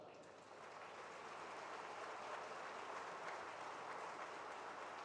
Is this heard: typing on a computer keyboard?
no